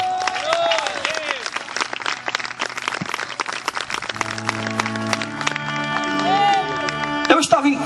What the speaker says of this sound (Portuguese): Se você é livre, aplauda o nome do Senhor.